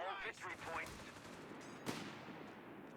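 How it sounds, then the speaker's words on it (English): Rifle gunfire crackles in the Company of Heroes 3 strategy game, with scattered sharp shots and a louder crack midway, quiet and distant under faint battle ambience. "The rifles are shooting at range from this crater."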